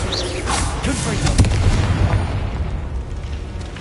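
A fiery Confringo spell blast in the Hogwarts Legacy video game on PS5 bursts with a booming, explosive crack. It rolls into a sustained rumble that fades slowly over several seconds.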